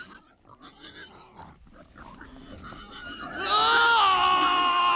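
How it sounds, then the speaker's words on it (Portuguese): A herd of pigs squeals and screams together in a loud, rising chorus, the cries building over the second half and holding strong to the end. "Eles saíram e entraram nos porcos."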